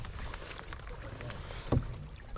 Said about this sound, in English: It's not particularly hard work paddling into it